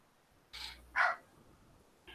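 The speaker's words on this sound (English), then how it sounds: "he's got a yippy little awful dog" A small yippy dog, a Jack Russell terrier, gives two quick sharp barks followed by a third shorter yap, heard fairly close with quiet background and no talk.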